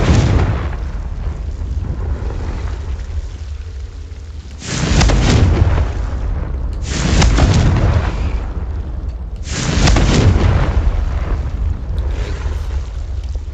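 Confringo blasting spells explode in the Hogwarts Legacy video game: three loud, booming bursts at intervals over a constant roaring rumble.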